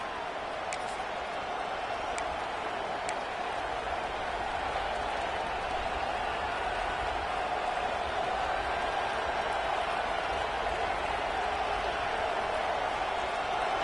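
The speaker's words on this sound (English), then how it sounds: "This crowd ready to make its presence known." Football stadium crowd roaring at kickoff, a dense, steady wash of cheering that holds at an even level throughout with no distinct voices standing out.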